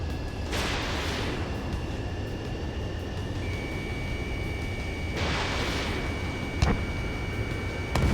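Missile impacts in Ace Combat 7 land as two bursts of roaring explosion noise over a constant dense rumble of jet engine, followed by a sharp short crack near the end.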